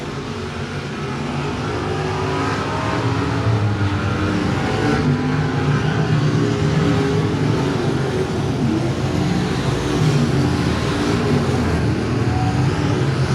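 Modified race cars roar around a Texas speedway dirt oval toward the checkered flag, engines droning loud and continuous with a rising wash of passing motors throughout.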